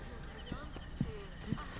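Horse hooves clip-clop in a steady rhythm during a race-day scene in the video game Assassin's Creed Origins, heard under game music and voices.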